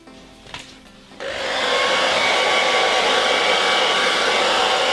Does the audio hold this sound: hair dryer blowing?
yes